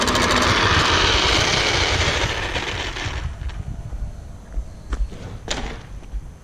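A ground effect vehicle engine running just under half throttle roars loudly with a high, buzzing whine that gradually fades over a few seconds, followed by several dull thumps.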